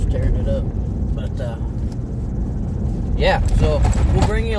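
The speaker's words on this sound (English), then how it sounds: "A lot of semi-traffic on this road's tearing it up." Cars and semi trucks pass on a rural road carrying heavy truck traffic, a continuous engine and tyre rumble with a clear whooshing pass-by near the end, heard from close by under a voice.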